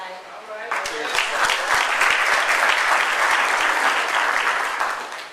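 A school event crowd applauds loudly for Liberty High School, with dense clapping that starts abruptly and keeps going evenly for several seconds, along with some cheering voices.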